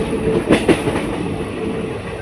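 A train rolls near the railway station at Ballari in a factory area: a loud, steady rumble with a couple of sharp clacks early on. No voices.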